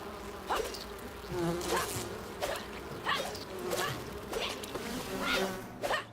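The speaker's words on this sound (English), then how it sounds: "If you hear bees, the presence of honey and wax are nearby." Swarming bees drone steadily in the video game Enshrouded, a dense insect hum running throughout with brief louder swells, and no talk over it.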